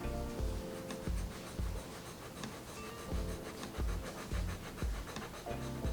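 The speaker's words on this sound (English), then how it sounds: "now I'll get my trusty Kakimori brass nib for the swatch" A Kakimori brass dip nib scratches and rubs across paper while swatching fountain pen ink, giving close, quiet, continuous strokes with a roughly regular rhythm of soft taps under them.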